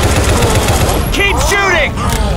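Rapid automatic gunfire in the zombie shooter Left 4 Dead 2, a loud continuous stream of shots close up, with voices calling out over the shooting.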